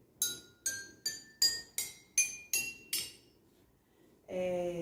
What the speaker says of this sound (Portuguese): é um instrumento de recipientes de vidro. É um xilofone